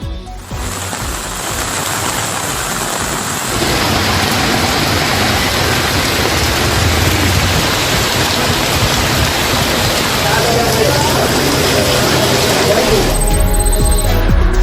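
Heavy rain pours steadily and loudly near the Porur flyover in Chennai, a dense unbroken wash that grows heavier partway through and continues to the end.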